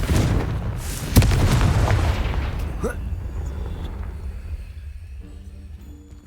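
A Confringo blasting spell detonates in Hogwarts Legacy, a loud booming explosion with a sharp crack at its peak that rolls and fades into a quieter rumbling tail.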